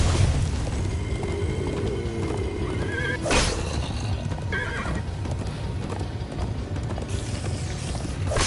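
Horses gallop with steady clip-clop hoofbeats and a loud whinny partway through, in the video game Minecraft Story Mode during a chase, with a brief boom and continuous action noise beneath.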